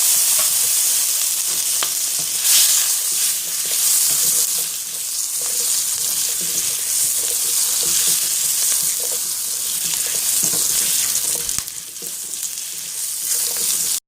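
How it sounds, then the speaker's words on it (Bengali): Potatoes fry in the same oil left from frying eggs for a cauliflower and egg curry, giving a steady, close sizzle with occasional stirring scrapes that runs continuously throughout. "ডিম ভাজা হয়ে গেলে একই তেলেই আলুগুলো একটু ভেজে নিচ্ছি।"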